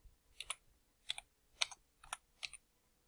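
A computer keyboard typed in five short bursts of quiet key clicks, close and isolated in an otherwise silent room.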